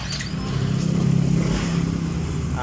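A Yamaha Mio J motorcycle engine, troubled by low injector coil voltage and dropping power, is restarted and runs at a steady, fairly loud idle with a slight rise in the middle, close by and without talk.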